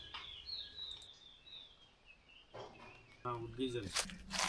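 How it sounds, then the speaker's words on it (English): Early-morning bird calls ring out at Kudremukh: thin, high whistled phrases repeat over soft ambient hush, followed by a brief voice and a few louder chirps near the end. "I woke up early in the morning to the sounds of the melodious bird calls."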